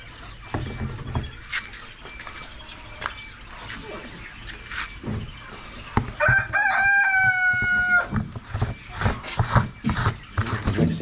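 Chickens cluck and chatter nearby amid scattered knocks, and a rooster crows once partway through.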